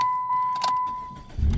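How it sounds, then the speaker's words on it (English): A 2008 Chrysler PT Cruiser being switched off: a steady electronic chime tone holds, cuts out after a soft click, and a low rumbling thump follows at the end, with no talking. "So what I'm going to do, I'm going to turn the car off."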